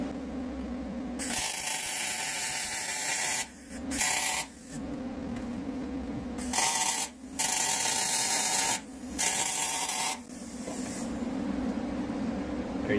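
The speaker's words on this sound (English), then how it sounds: "Now everything's lined up, it's time to full weld that gusset." A gusset is welded onto a second-generation axle housing with several loud, crackling hiss bursts separated by short pauses.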